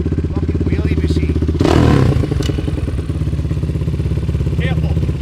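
A 1997 KTM 620 LC4 single-cylinder motorcycle idles with a steady, close, thumping pulse, rising into a brief louder rev about halfway through, then settling back, with people talking nearby over it.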